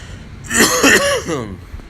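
A single harsh throat clearing and cough up close, followed by a short rasping exhalation.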